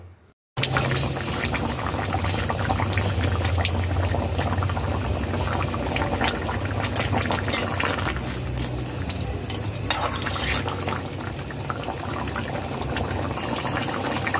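Crab and potato curry simmers in an open pot, a steady bubbling sizzle close by with frequent stirring scrapes and clinks running throughout.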